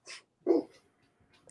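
Large dogs weighing around 150 pounds bark in two short, fairly faint bursts, with a brief pause between them and a soft trailing sound at the end.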